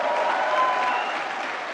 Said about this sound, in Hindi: जोरदार तालियां फिल्मकार के लिए और फिल्म के लिए।